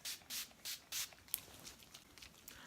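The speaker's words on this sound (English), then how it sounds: "Now I'm going to be setting my face makeup with the Urban Decay All Nighter." Several quick, breathy bursts of Urban Decay All Nighter makeup setting spray misted onto the face up close, four evenly spaced puffs followed by softer rustling.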